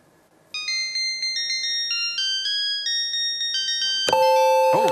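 A mobile phone ringtone plays a synthesized version of a song as bright, bouncing tones, loud and close with no voices. Near the end it swells into a fuller, louder chord.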